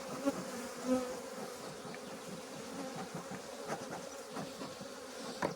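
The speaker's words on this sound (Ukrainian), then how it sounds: "Трохи бджоли розхвилювалися" A close, continuous buzzing of many agitated honeybees at an apiary during spring hive work, restless and fluctuating, with small bumps and taps underneath.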